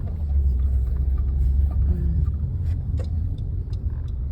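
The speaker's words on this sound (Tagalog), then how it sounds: "Ayun, daming truck po." Heavy road traffic with many large trucks rolling past, a steady loud low rumble of engines and tires that stays continuous throughout, with faint scattered clicks and knocks on top.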